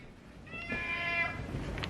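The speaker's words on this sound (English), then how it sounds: "we're going to take a short intermission here to feed the cats" Cats meowing while waiting to be fed, a short run of drawn-out, high harmonic cries in the middle of the stretch against a low background hum, fairly close, with no talk.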